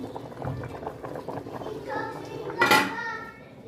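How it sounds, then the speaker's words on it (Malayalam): Rice for biryani bubbles at a low simmer in a pot under chatter, with a brief clatter of dishes near the end. "ഇനി ഇതാ റൈസ് ഇവിടെ ബോയിലായിക്കൊണ്ടിരിക്കുന്നു."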